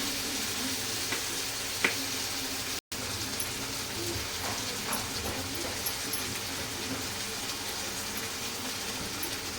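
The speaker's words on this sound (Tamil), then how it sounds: "இது நல்லா வதக்கிக்கணும். அப்போ தான் அது பச்சை வாசனை நல்லா போயிடும்." Tomatoes sautéing in a pan for tomato chutney give a steady, close frying sizzle that runs evenly throughout, with a brief gap near the start and faint scraping underneath.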